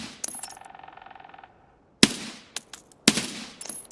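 MK16 rifle gunfire in a video game: a short rapid burst of fire, then a pause and two sharp loud shots a second apart, each followed by brief clattering.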